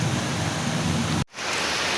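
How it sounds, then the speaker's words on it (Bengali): Heavy stormy rain rushes outside a window, a loud broad hiss cut by a sudden brief dropout before resuming just as strong. "আমাদের এই জানালা দিয়ে ঝড় বৃষ্টি হচ্ছে।"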